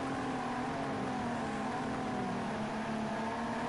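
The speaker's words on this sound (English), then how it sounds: "Hear that engine roar." Race car engine in Project CARS 2 roaring steadily down the main straight, a continuous loud drone with shifting harmonic pitch throughout, no voice over it.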